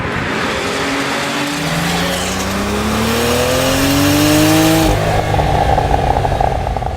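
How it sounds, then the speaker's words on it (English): A turbocharged car driving on a freeway rumbles steadily while the engine note rises through acceleration, then backs off into a loud burble and crackle, close and unbroken without talk. "It's got a burble when you back off. You hear the turbo rumble"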